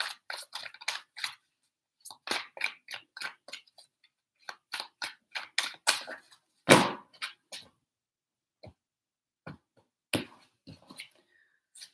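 Crisp, rapid riffling bursts of tarot cards being shuffled, three quick rounds of flicking, close and clear against silence.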